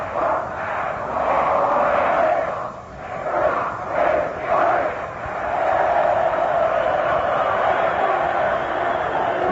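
A Notre Dame football crowd cheers from across the field at Yankee Stadium during a timeout, a distant swelling chant with rhythmic surges, heard through an old radio broadcast.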